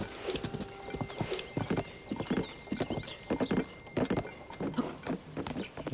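Horse hooves clip-clop steadily in Zelda: Tears of the Kingdom, a quick, even run of close, crisp footfalls with an occasional whinny and a faint background of rain and game ambience.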